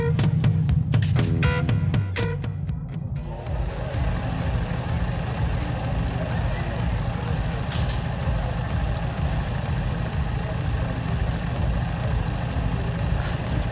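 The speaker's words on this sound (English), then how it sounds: "I came up to find Bogdan on the bike, revving the engine and hollering like an idiot" A motorbike engine in the video game Thief of Thieves idles and revs, a steady close rumble that follows a brief burst of other game sounds at the start, with no talk.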